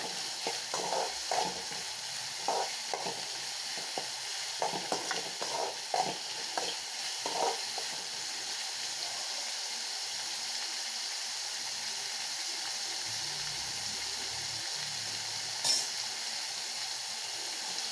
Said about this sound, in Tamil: நாலு பல் பூண்டு ஆட் பண்ணிக்கோங்க தட்டி அதோடு சேர்த்து நல்லா வதக்கிக்கோங்க